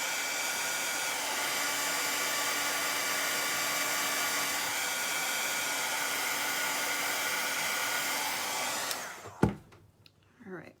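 A hair dryer blows steadily to dry fresh paint on a Mrs Claus craft piece, a loud continuous whooshing whine held close for most of the time and then switched off, followed by a few soft handling knocks.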